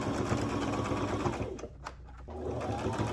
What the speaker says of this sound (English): I'm going to start and then I'm going to give this a back stitch.